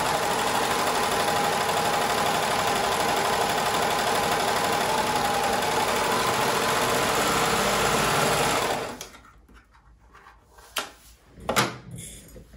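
An overlock serger stitches a rolled hem along viscose fabric, a loud, steady, fast mechanical whirr running continuously for several seconds and then stopping, followed by quieter handling clicks and rustles.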